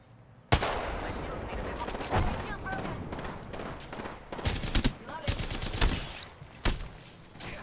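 Enemy gunfire in the battle-royale game Apex Legends, with sharp bursts and single shots cracking repeatedly at close to mid range over a busy game mix while a player talks.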